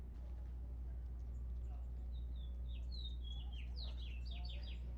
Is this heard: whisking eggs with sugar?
no